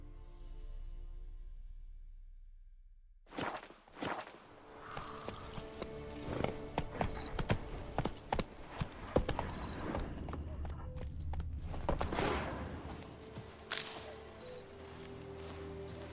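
Horse hooves clip-clopping in The Witcher 3 video game: after a few quiet seconds, a steady run of close, sharp hoofbeats begins and continues, with a brief whinny-like sound among them.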